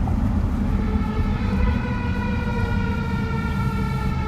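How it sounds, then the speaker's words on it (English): A mechanical fire truck siren wails loudly and continuously, its tone sliding slowly downward, with a low rumble of traffic underneath. "Now I like that old siren sound, mechanical siren."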